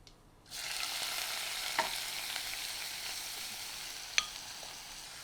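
Cumin seeds and grated onions hit hot oil for a kofta curry gravy, setting off a sudden steady sizzle that holds evenly, with a couple of faint utensil taps in the pan.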